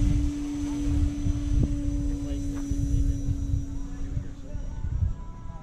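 An aircraft takes off at night, heard as a steady droning engine hum with a constant tonal whine that holds throughout, fairly loud and continuous.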